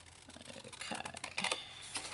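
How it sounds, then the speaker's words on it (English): Large Tim Holtz scissors cut through card in a series of short, crisp snips and rustles that rise in intensity midway, close and quiet with no talk. "ginormous Tim Holtz scissors because they're easier to cut with"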